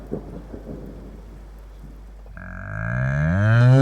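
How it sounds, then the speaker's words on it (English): Rain and distant thunder from a Farming Simulator mod rumble softly at first, then a loud, drawn-out cow moo swells in and dominates the final seconds. "A little bit of thunder and lightning"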